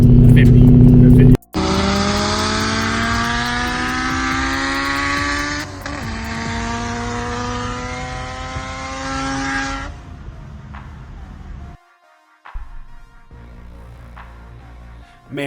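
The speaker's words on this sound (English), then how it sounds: "Man, that Honda sounded like shit." A Honda Civic races alongside a supercharged Mustang, heard as loud, strained engine revving that climbs through gears, then cuts off abruptly before a quieter rumble returns.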